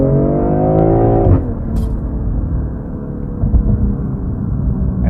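A 2020 BMW M340i launches under launch control: the engine holds a loud, rising rev for over a second, then drops sharply into a heavy, continuous acceleration roar that carries on to the end.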